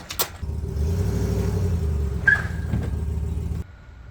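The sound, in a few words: truck backing up with logs in truck bed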